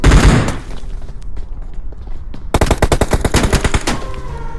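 Automatic gunfire in PUBG Mobile, a loud opening burst followed by a quieter pause, then a rapid string of sharp, closely spaced shots near the listener.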